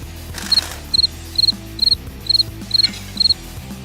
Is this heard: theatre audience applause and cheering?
no